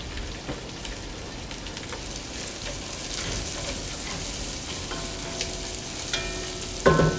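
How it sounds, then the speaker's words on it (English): Vegetables sweat over medium-low heat in beef fat in a pan, a steady soft sizzle with light crackling throughout, close and even, with a brief clink near the end and no talk. "added the vegetables in, reduced the heat to kind of medium, low, and we're just gonna sweat them in the beef fat"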